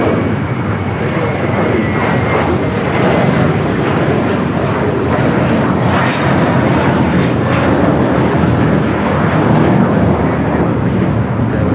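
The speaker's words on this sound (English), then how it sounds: "382 taking off to Boston on the A321." An American Airlines A321 taking off from LAX for Boston makes a loud, continuous engine roar that stays close and steady throughout, with faint talk underneath.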